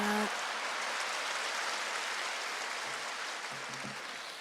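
Congregation applause greeting a pastor at a church service, a steady broadband wash of many hands clapping that holds evenly throughout and eases slightly toward the end, with no voices over it.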